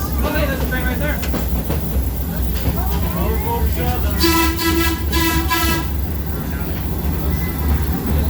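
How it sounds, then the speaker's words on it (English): CSX freight train carrying coal passing nearby, a loud steady rumble of rolling cars with a brief horn toot midway, while a person talks over it. "oh hey, there's a train right there"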